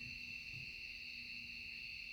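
An owl hoots at night, giving a couple of soft, low calls in a quiet setting. A steady high-pitched insect drone runs underneath.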